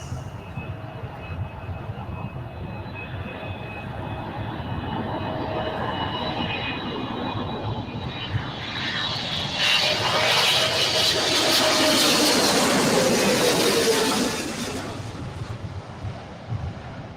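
Boeing 777 airliner passing at LAX, its engine roar building from faint to a loud, broad rush that peaks and then drops away, no talk over it.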